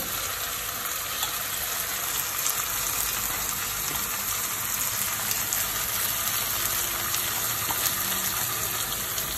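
Gongura chutney paste with spice powder sautéing in oil in a pan, a steady, dense sizzle and crackle running without a break at even loudness, with no voices.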